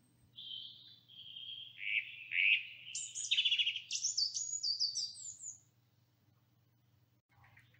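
A tit sings a clear, high, bright song of repeated chirps and trills for several seconds, close and alone over a faint low hum.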